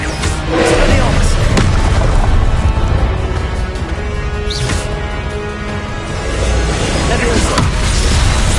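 Expelliarmus spell blasts in the game Hogwarts Legacy, heavy booming impacts and crashes over a dense rumbling game mix, loud and continuous, with a character voice calling out in the fight.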